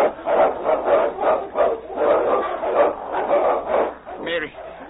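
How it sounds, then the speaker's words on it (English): A dog barks repeatedly in quick bursts, fairly close, with a muffled, band-limited quality and a brief whine near the end. "that's a dog's bark."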